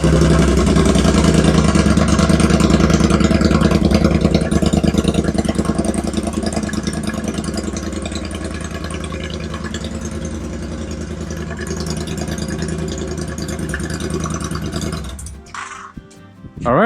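A 2018 Triumph Bobber motorcycle engine runs at a steady, throbbing idle, loud and close, before the rumble stops abruptly near the end.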